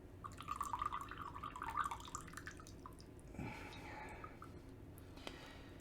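Green tea pouring from a teapot, a faint trickling and dripping stream of liquid early on, fading into quieter dribbles and occasional drips under low room noise.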